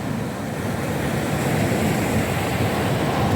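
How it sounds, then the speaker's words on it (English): Loud sea waves break on the shore at Tramps Alley, Corton, UK, a steady roaring wash of surf mixed with wind noise on the microphone, with no voices heard. "but we got some pretty loud waves going on."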